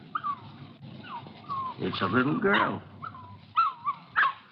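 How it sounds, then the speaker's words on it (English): A puppy whimpers and yips in high, thin cries scattered across a few seconds, close by, mixed with someone speaking. "You want to see the puppy?"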